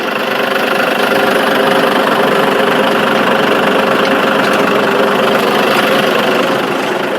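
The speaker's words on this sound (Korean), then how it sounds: "자 보시면 엔진 컨디션 아주 카랑카랑" A 2019 Hyundai Universe Noble bus fitted with a ZF automatic transmission and a four-stage retarder idles steadily, its diesel engine producing a loud, continuous rumble with a faint knocking texture and no voices over it.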